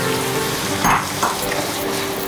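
Shallots and onions frying in a pan, a steady close sizzle broken by a couple of brief scraping stirs, with no talk.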